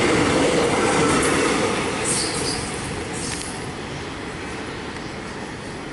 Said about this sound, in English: now we have a Belgrave service passing, 44M, going through at some speed